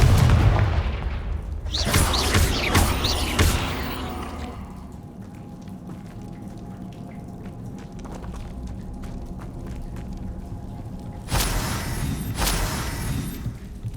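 A Confringo blast spell in the Hogwarts Legacy video game bursts with heavy booming cracks, a loud explosive rumble at the start and another burst near the end, over a continuous low game background.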